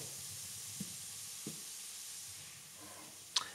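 Bacon lardons sizzle softly in hot oil in a sauté pan, a steady faint frying hiss with a few light utensil taps and no talking.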